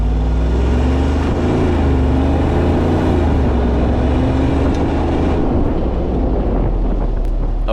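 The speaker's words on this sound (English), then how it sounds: "oh yeah, that exhaust note right there" A 2021 Jeep Wrangler 392 Rubicon rumbles off-road with a deep, steady exhaust drone and rising engine note, heavy wind buffeting the microphone throughout, ending with a few rougher bursts.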